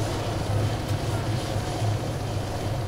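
Helicopter engine and rotor in the ARMA 3 video game, a steady loud low throbbing drone with a rhythmic beat that holds for the whole span, with no talk over it.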